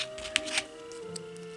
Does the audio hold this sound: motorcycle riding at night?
no